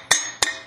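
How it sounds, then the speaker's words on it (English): Two sharp, light hammer taps on a metal part of an Aqua Flo pump during seal removal, spaced about a third of a second apart, close and fairly quiet with no talk. "I just normally take the hammer, just give a little tap."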